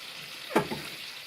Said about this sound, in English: Bacon sizzling away over here.